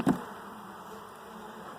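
Honey bees hum in a steady, close buzzing drone during a hive inspection, starting with a brief louder burst and then holding an even, continuous tone with no talking.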